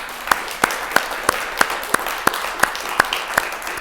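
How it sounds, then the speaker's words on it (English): Sharp claps ring out at an even pace, about three per second, crisp and close over a quiet room, as an audience is asked to applaud an interview guest. "Can I get a round of applause?"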